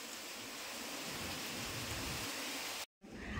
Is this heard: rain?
yes